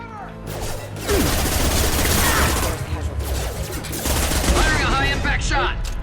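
High-impact gunshots in the video game Mass Effect 2: rapid bursts of loud gunfire with crashes and mechanical clatter, running almost continuously under a spoken voice.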